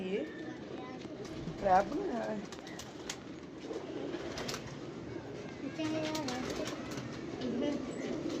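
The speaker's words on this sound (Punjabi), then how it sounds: "ਇਹ ਕਬੂਤਰ ਮੇਰਾ ਪੁਰਾਣਾ ਜੀ" Pigeons kept by a pigeon fancier coo in soft, low repeated calls close by, mixed with faint bird rustling, while people talk throughout.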